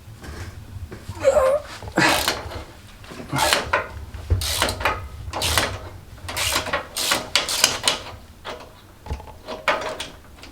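A ratchet loosens wheel bearing bolts on a Land Rover Discovery 2, with repeated rapid clicking strokes in irregular bursts, close and clear, with no talking.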